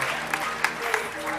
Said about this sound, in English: And John Leslie, give him a round of applause.